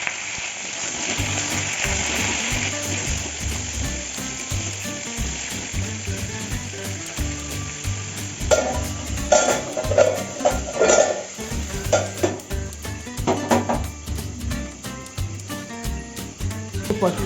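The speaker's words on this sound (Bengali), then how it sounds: "পটলগুলো ভাজা হয়ে গেছে," Pointed gourd (potol) pieces fry in oil with a pinch of salt in a pan, giving a continuous close sizzle with intermittent stirring scrapes and clatter. No one speaks over it.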